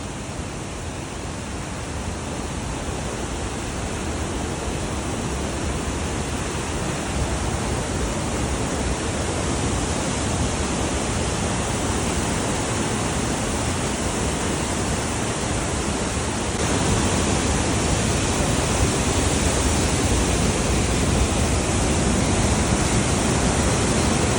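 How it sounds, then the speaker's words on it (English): A loud, constant roar of rushing water fills the air, heavy and unbroken throughout, like standing close to a big waterfall. "we're gonna go right over the top of the big falls, and it's probably gonna be loud"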